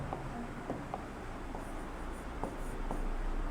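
Chalk or marker scratches across a board during a chemistry class, a run of short scraping strokes in an irregular rhythm over a steady room hum.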